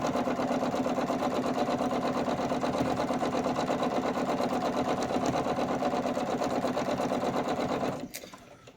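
Sewing machine stitching curves on a Christmas poinsettia quilt, running at a steady, continuous buzzing rhythm for about eight seconds before stopping abruptly near the end.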